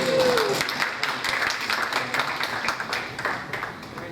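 An audience at a high school class day applauds the graduating class, with sustained, moderately loud clapping from a crowd that gradually thins out.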